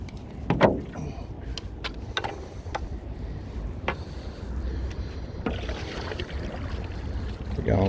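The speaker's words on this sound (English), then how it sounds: "We're going for an afternoon paddle." A kayak on an afternoon paddle: intermittent splashes and strokes of the paddle in the water, unevenly spaced, over a steady outdoor background of wind and water.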